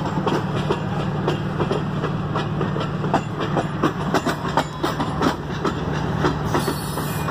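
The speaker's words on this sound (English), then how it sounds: "This is the oil train." A long CN/CSX mixed freight train with oil tankers rolls steadily past a road crossing, its wheels keeping up a continuous rumble and rhythmic clickety-clack, loud and close, with no talking.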